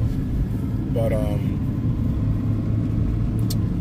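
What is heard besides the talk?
truck with 5-liter Cummins diesel engine running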